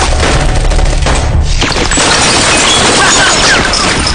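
Gunfire from a dubbed action film, a loud burst of rapid shots and crashing impacts over a heavy low rumble, dense and close throughout.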